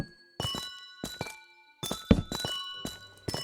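Footsteps on amethyst blocks inside a Minecraft amethyst geode, heard as clusters of short chiming, clinking taps with bright ringing tones, spaced irregularly and fairly soft, no speech.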